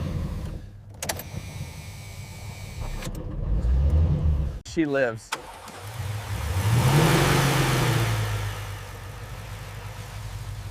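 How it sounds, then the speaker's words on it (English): A 1967 classic car engine, left to rot for 30 years, cranks, catches and roars to life, then revs up and settles into a steady rumble while someone speaks briefly over it. "The engine idles perfectly, valve covers vibrating gently, exhaust pulsing"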